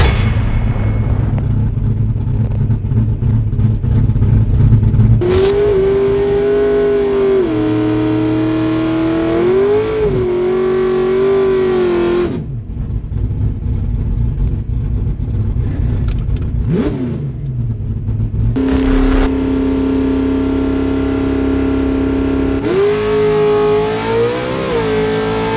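An NHRA drag race car at the Springnationals roars through a long, loud run, its engine holding a steady high drone with several shifts and surges in pitch, close and overpowering throughout.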